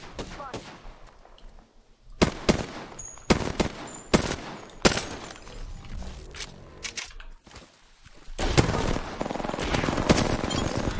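Gunfire in the video game Apex Legends, with repeated loud bursts of automatic fire and single shots at an irregular rhythm, mixed with mechanical game sounds and some talk.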